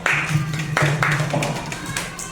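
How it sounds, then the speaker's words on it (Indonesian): Elementary school classroom applause, children clapping together in loose rhythmic bursts, close and fairly loud, with a low hum underneath and a few voices mixed in. "Terima kasih, tepuk tangan dulu."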